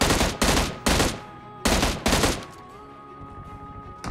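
Five loud bursts of M16 rifle fire in a mobile battle royale game, each a short rapid volley spaced about half a second apart, followed by a quieter lingering tone and faint ambient game sound.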